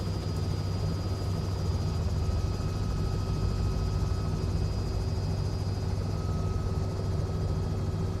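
A CowanSim R66 helicopter in Microsoft Flight Simulator 2024 drones on steadily, its turbine whine and rotor hum holding a constant, loud level throughout with no talk over it.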